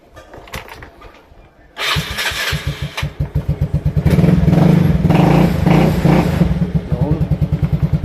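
A Yamaha Mio Sporty scooter fitted with a double kill switch cranks and fires up, then settles into a loud, close, rhythmic idle with revving pulses. Someone talks over the engine in a few places.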